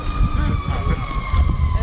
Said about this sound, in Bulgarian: И само сирени чувам.